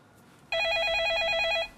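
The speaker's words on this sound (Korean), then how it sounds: "자, 그럼 다음 전화 연결 이어가 보겠습니다." A telephone ringback tone heard while a call connects on a live broadcast, one steady trilling electronic ring burst, clear and close, starting and stopping abruptly.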